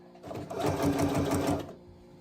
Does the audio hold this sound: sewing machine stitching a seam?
yes